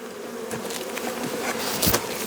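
A dense swarm of honey bees drones steadily while someone walks through an apiary, a close, continuous buzzing hum, with a few individual bees whining louder past the ear near the end.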